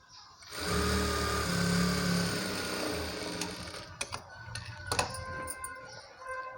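A sewing machine stitches saree fabric into an umbrella-cut frock, running with a steady close motor whir for several seconds, then slowing into short separate bursts and clicks.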